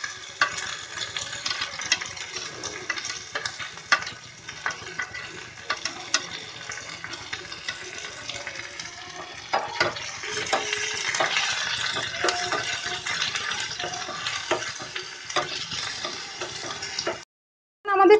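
Chopped garlic and nigella seeds fry in hot oil for a tempering, a continuous crackling sizzle with occasional spoon stirs, close and steady, then cutting off near the end.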